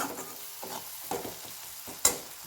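Vegetables for pav bhaji sautéed in ghee sizzle softly in the pan, with a few scrapes of the stirring spoon and a sharper clack near the end, and no talking.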